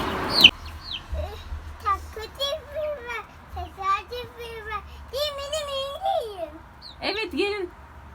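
Small chicks peeping in high, repeated chirps, close and fairly steady, with a voice babbling at times among them while the chicks are fed.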